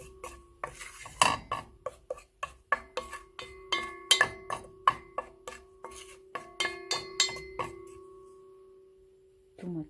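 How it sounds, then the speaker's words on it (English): Spices toasting for chicken biryani in a pot, heard as a long run of sharp metal clinks and scrapes from a utensil stirring against the pot, steady and close, with a low steady hum underneath. "toast it a little bit until the fragrance will come out"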